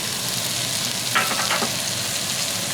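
Scallions stir-frying with pork cubes in a hot pan, giving a steady close sizzle with a couple of faint scraping stirs in the middle.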